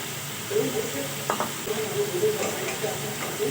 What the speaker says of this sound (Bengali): আমি পনিরগুলো খুব কড়া করে ভাজবো না, একটু হালকাই থাকবে।